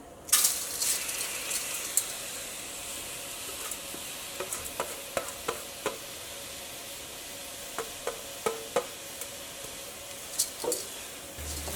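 Washed rice dry-roasting in a hot pan without oil, a soft continuous sizzle broken by scattered sharp clicks and scrapes of stirring, close and alone.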